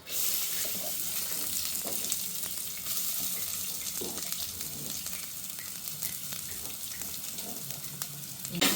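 Chopped onions hit hot oil with fennel and fenugreek seeds for a Kerala fish curry, giving a steady, dense sizzle and crackle close up, with faint stirring scrapes underneath and no voices.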